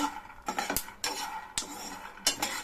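Peanuts roasting in a pan as a utensil stirs them, giving about four rhythmic scraping, clinking strokes of metal on the pan, close and clear with no voices.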